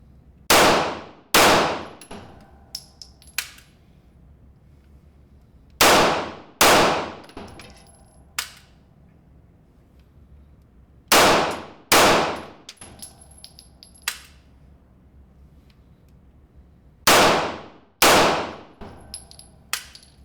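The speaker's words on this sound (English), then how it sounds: "I'm going to shoot two-shot bursts just to see how it performs." Springfield XD-e 9mm pistol fired in two-shot bursts, four sharp pairs of loud, close cracks spaced several seconds apart, with faint metallic clinks and quiet gaps between them.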